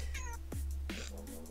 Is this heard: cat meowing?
yes